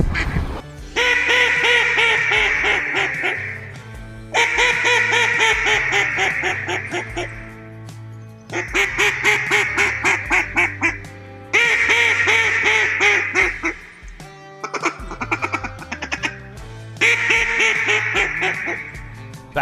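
A real hen mallard quacks in flooded Arkansas timber, followed by a Beckman Edison duck call imitating her; loud, close, rhythmic descending quack sequences in several bursts separated by short pauses.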